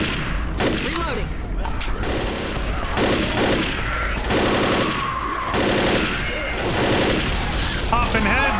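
Rapid bursts of gunfire shooting zombies in Left 4 Dead, dense, loud and sustained with brief gaps between volleys; voices talk over it.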